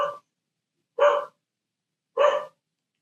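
A dog barks downstairs in a house, three evenly spaced single barks about a second apart, heard alone from a distance with no talking.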